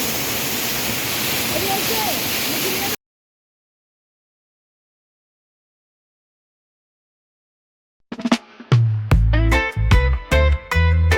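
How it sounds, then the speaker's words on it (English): A waterfall in Burundi's Kibira rain forest pours in a steady, broad rush for a few seconds. Silence follows, then voices and other sounds. "Waterfall, yeah"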